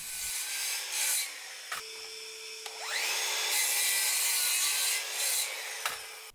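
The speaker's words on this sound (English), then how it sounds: "then I can get the pieces chopped off on the miter saw" A miter saw chops wooden brace pieces for workshop stools, with a loud, sustained whine as the blade spins up, bites into the wood and winds down, and sharp knocks between cuts.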